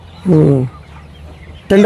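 Broiler chickens in a farm shed give a short loud cluck, then faint shed noise and the start of another call, with voices murmuring in the background.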